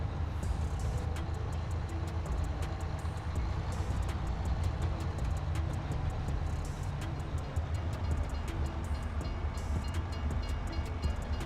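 A train in the video game Farming Simulator 22 rumbles past steadily with a continuous low roar and rhythmic clacking, loud and close, with no voices throughout.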